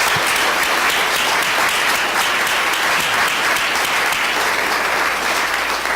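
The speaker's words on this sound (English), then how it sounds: "shall we have a round of applause for the panelists?" Sustained applause from a seminar audience thanking the panelists at the close of a political discussion on populism, dense and steady throughout, loud and uninterrupted with no voices over it.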